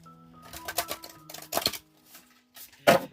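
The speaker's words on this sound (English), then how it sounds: "Anybody who doesn't want to watch me shuffle the cards" Oracle cards from a Sacred Forest deck are shuffled by hand in quiet, quick bursts of light riffling and slapping, with short pauses between them.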